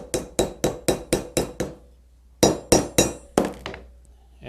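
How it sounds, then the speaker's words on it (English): A hammer strikes metal repeatedly to round over the top of a rivet on an oak bucket, a run of sharp, evenly spaced ringing taps, a pause, then a second burst of blows, close and loud. "And round the top of the rivet over."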